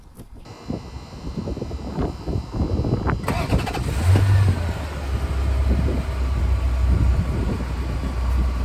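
A 1991 Ferrari 348 tb engine cranks briefly, then fires and catches, settling into a deep, steady idle that rumbles loudly and evenly.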